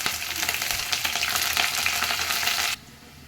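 Onions and curry leaves frying hard in hot tempering oil for a cabbage, tomato and toor dal curry, a loud, dense, steady sizzle with faint stirring that cuts off abruptly near the end.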